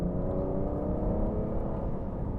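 Aston Martin DBS Superleggera Tag Heuer Edition engine held at a steady, droning note as it accelerates, a continuous low exhaust rumble recorded from inside the cabin with no voices.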